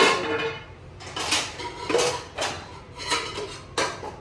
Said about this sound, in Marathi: भांडी का पट्टेस?